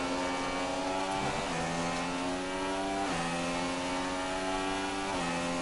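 An F1 car engine in the F1 2016 racing video game revs loud and continuous, with high harmonic whine that rises steadily and dips briefly at each of three gear shifts, no voices over it.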